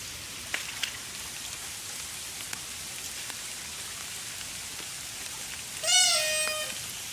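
Heavy rain pours down outside a flooded house, making a constant dense patter with a few sharper drops. Near the end a cat lets out a clear, rising meow over the rain.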